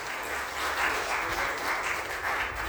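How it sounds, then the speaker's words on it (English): An audience at a Dubai property presentation applauds in a steady, dense round of clapping that fills the space throughout, moderately loud with no voices over it. "give it a round of applause, please, everybody."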